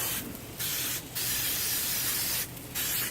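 Oil sprayed onto pork chops on a grill in three bursts, a long broad hiss in the middle flanked by shorter ones, close and steady with no talking.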